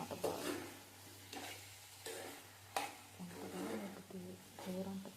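Oil with chilli powder sizzling in a pan as prawns fry for a Godavari prawn curry, a soft continuous crackle with a few stirring scrapes, quiet and close, partly under a speaking voice.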